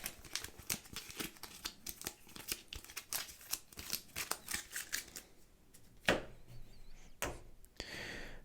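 A deck of Star Wars: The Clone Wars board game cards is shuffled up close, a string of crisp rhythmic riffles and snaps followed by a few sharper taps, quiet and with no talk.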